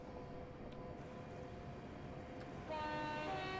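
A Pendolino train runs along the West Coast Main Line in Train Simulator Classic, giving a steady rumbling rail drone, and a tonal whine or horn-like hum joins in near the end.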